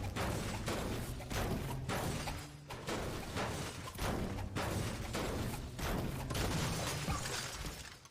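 Submachine gun fire in a video game, rapid bursts repeating in a rough rhythm with short gaps between them, moderately loud over a busy background.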